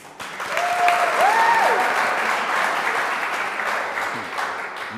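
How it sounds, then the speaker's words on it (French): TV game show studio audience applauding steadily and loudly throughout, with a brief whistle-like tone rising over the clapping early on. "Allez, on applaudit."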